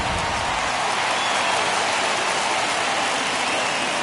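Home crowd roaring at a ballpark in MLB The Show 21, Cardinals versus Brewers, a dense, steady wash of cheering and applause filling the whole stretch without letup.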